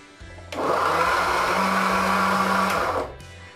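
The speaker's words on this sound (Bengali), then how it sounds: "এটাকে আমি আবার ব্লেন্ড করে নিচ্ছি" An electric blender whirs through a mango milkshake in one loud, steady burst of about two and a half seconds, starting and stopping sharply.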